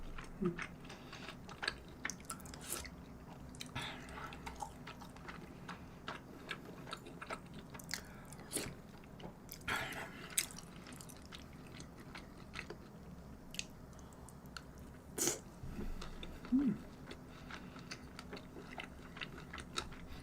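Someone chews rose tteokbokki with beef brisket close to the mic, soft repeated bites, squishy chewing and small clicks, quiet and intermittent with no talking.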